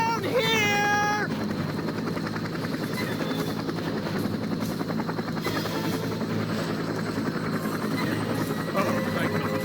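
A Seahawk helicopter in the war video game Men of Valor drones with a continuous rotor buzz and hum throughout, loud and steady, with a brief warbling sound near the start.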